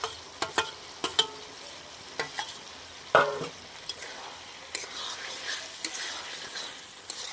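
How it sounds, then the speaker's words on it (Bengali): Fried potatoes tumble into a pan of spice masala frying in oil for a spicy Bengali Shankar fish curry, giving a steady crackling sizzle broken by scattered spoon scrapes and clatters, with one louder clunk midway, close and fairly quiet. "এইবার আলুগুলো দিয়ে দেবো দেবো এই যে ভেজে রাখা আলুগুলো"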